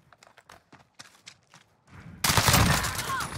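Gunfire in Call of Duty Modern Warfare 2019: scattered single shots crack in the first two seconds, then a loud sustained burst of rapid fire with heavy rumbling impacts takes over, dense and close.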